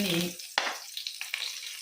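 Garlic cloves and curry leaves fry in hot oil in a pan, a burst of loud crackling at first that settles into a softer sizzle broken by several sharp pops and spatters.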